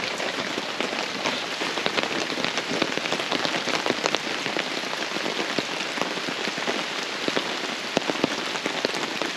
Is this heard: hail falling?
yes